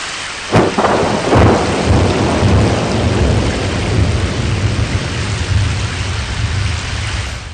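A heavy downpour roars steadily while deep thunder rumbles through it, with a sharp crack near the start, loud and enveloping, no voices.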